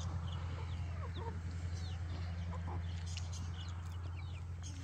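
Soft hen clucks and small chirps come and go over a steady low hum, fairly faint and scattered, with no talking.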